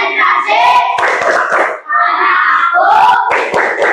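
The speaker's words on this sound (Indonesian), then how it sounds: "Oke, tepuk konsentrasi." Classroom students do a rhythmic concentration clapping routine, loud group claps and shouted chanting in bursts close by.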